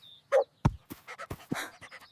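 A dog in a 3D animated cartoon pants close up in quick, uneven breaths, with a short whimper-like squeak near the start.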